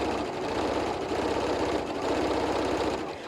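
Sewing machine running steadily while topstitching an adult bib, a continuous close mechanical whir with a rapid needle rhythm throughout, no voices.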